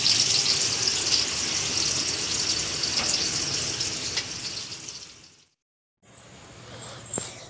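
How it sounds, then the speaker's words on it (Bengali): Pointed gourd (potol) slices coated in salt and turmeric frying in hot oil, a steady close hiss and sizzle that briefly cuts out and then resumes. "এই দেখো পটল ভাজা বসেছে"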